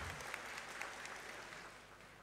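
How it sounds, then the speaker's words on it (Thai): An audience in a university auditorium applauds retirees at a retirement ceremony, producing a faint, distant, even wash of clapping with a few slightly louder claps standing out. "ปรบมือให้อีกท่านๆอีกสักครั้งดีไหมคะ"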